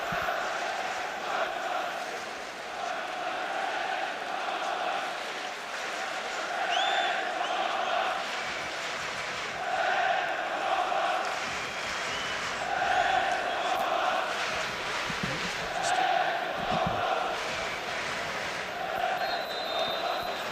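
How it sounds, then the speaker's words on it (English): A big crowd fills a stadium in Manchester for a Euro 96 football match between Germany and the Czech Republic, a steady, distant roar with swelling waves of chanting and rising noise throughout. "A big crowd assembled in this magnificent stadium as the match gets underway"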